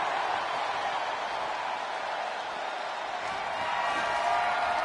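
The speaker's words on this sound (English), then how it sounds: "You can hear this crowd behind me chanting." A wrestling arena crowd in WWE 2K25 gives off a steady, distant roar that holds at an even level throughout. No clear rhythmic chant stands out.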